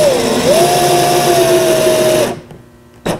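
A power drill drives a soap-lubricated wooden screw, its motor whining steadily with one pitch shift before stopping, followed by a brief sharp knock.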